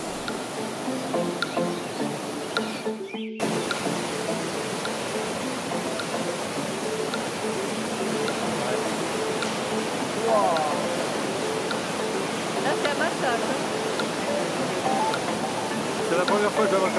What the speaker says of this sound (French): les cascades coulent à gros flots